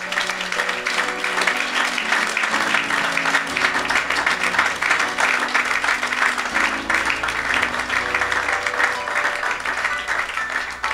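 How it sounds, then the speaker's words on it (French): Church congregation applauding steadily through a worship service, dense sustained clapping with faint music or voices underneath, loud and continuous throughout. "On fait bien d'acclamer."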